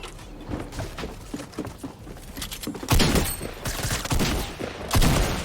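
Rapid bursts of gunfire from the Fortnite battle royale video game, Chapter 2 Season 5, crackle in clustered volleys that grow louder and denser toward the end, with thuds and mechanical clatter mixed in.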